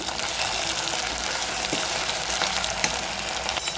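Broad bean pieces are stirred in a frying pan, with a dense, constant sizzle and occasional soft scraping of the spoon against the pan, close and steady, with no voices.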